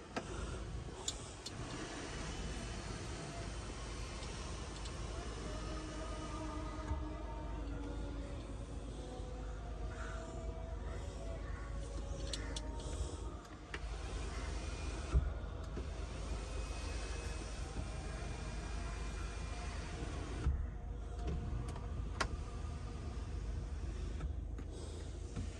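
Power sunroof of a 2021 Mercedes GLS 450 with a 3000 cc engine sliding open, a steady motorized whir inside the cabin that runs evenly for the whole stretch, with a few faint clicks and ticks.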